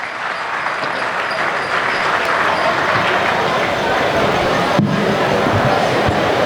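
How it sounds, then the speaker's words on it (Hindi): Audience applause at a Hindi comic poetry gathering, a dense, steady wash of many hands clapping that fills the whole stretch with a roomy crowd feel and a brief sharp knock near the end. "एक बार तालियां बजाइए"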